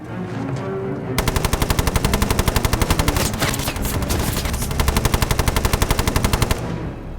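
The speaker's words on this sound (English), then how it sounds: "Kane opens with deadly fire. When one of the Germans tries to rise, Kane loads another magazine and empties it." Sustained machine gun fire rattles in long rapid bursts, loud and close, with a brief pause midway, part of a wartime scene of World War II fighting against German troops.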